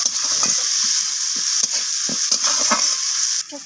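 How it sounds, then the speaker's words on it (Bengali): Sliced onions and dried red chillies frying in hot oil in a pan, a loud continuous sizzle broken by repeated scraping stirs, close by and without voices. "তো পেঁয়াজ আর শুকনো লঙ্কাটাকে আমি একটু ভেজে নেব, পেঁয়াজগুলো লালচে রং ধরা পর্যন্ত।"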